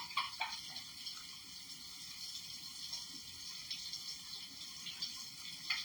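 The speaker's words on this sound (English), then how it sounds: "Let me rinse my hands." Tap water runs steadily while hands are rinsed beneath it, a soft, continuous splashing stream with a few light knocks at the start.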